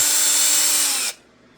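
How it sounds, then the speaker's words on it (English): Power drill spins a wire twisted into a pipe cleaner, the wire clamped in a vise: a steady, loud high-pitched whir lasting about a second before cutting off to quiet. "Clamp it up in your vise, chuck it up in the drill, twist her up"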